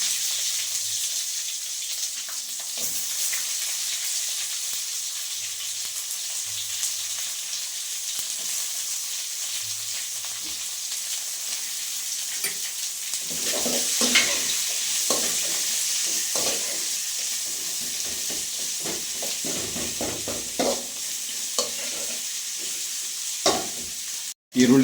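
Chopped onions frying in a pan for Mangalorean chicken sukka, a steady soft sizzle with intermittent stirring scrapes and clinks, close and moderately loud, ending in a sharp knock.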